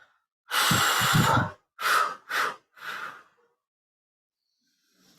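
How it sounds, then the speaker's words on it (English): A long, deep breath out followed by three shorter exhalations during a guided meditation, close and clear, then near silence. "take a few breaths and breathe it out into the earth"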